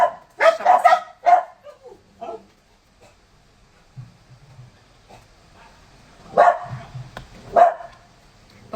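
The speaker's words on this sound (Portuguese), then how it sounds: "Esse cachorro passando aqui agora." A dog barks several times nearby, a cluster of three or four sharp barks early on and two more after a pause, with faint low rumbling in between.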